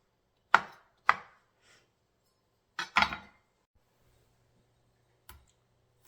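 Knife chopping through an onion on a cutting board in a home kitchen: a few sharp, isolated chops spaced irregularly, close and crisp against quiet surroundings.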